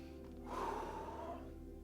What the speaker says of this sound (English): Let's focus on breathing.